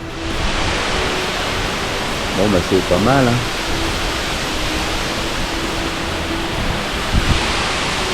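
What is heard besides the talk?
waterfall in Tahiti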